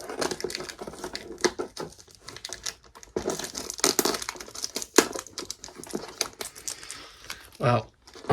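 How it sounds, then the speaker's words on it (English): Cardboard on the back of a toy box is ripped and crinkled in close, irregular bursts of tearing and crumpling, with short pauses between pulls. "it seems as though I'm going to have to rip up the back of this box up a little bit"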